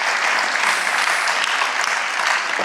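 A studio audience applauds a singer on a show, a dense, steady clapping that stays loud throughout with no voices over it.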